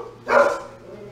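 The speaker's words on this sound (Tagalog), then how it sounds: "Huwag mong intindihin yung mga aso." Several dogs bark in a short burst, a loud cluster of barks near the middle with a faint whimpering tail, set against a quiet rural background during an outdoor Filipino prayer gathering.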